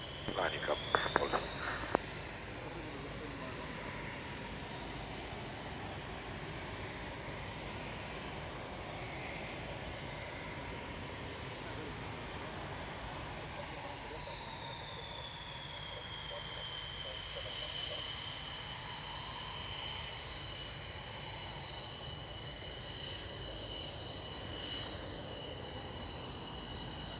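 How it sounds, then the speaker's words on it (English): A Polish MiG jet on runway 27 sends a steady distant engine roar with a high whining tone that bends and shifts pitch as it powers up for a display takeoff, after a few brief clicks at the start. "MiG, runway 27, clear takeoff and display."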